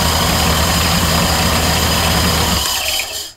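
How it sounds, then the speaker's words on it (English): A Porter Cable 4x36 inch benchtop belt sander runs loud and close with a harsh, steady, buzzing roar, then winds down and falls quiet near the end. "This is my 4-inch by 36-inch belt sander."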